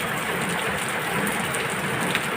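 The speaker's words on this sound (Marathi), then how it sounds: "20 मिनटं झाले एकसारखी संततधार आहे" Heavy monsoon rain pours down in a steady, unbroken downpour that has kept up for about twenty minutes, a dense close hiss of drops drumming on surfaces with no voices.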